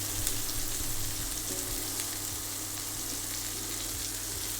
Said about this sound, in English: So, meatballs are cooking.